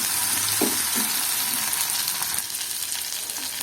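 Bitter gourd sautéing in a pan, a loud, constant frying hiss with a couple of low spoon thuds early on and steady sizzle throughout.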